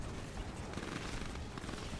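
Rapid, dense gunfire from an APC in the video game Command & Conquer 3: Kane's Wrath, a continuous rattle of overlapping shots that fills the whole stretch with steady battle noise.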